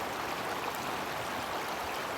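River water flows in an even, continuous rushing hiss, steady and broadband, with no voices.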